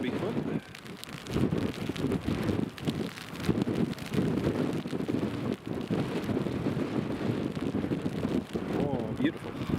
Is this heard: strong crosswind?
yes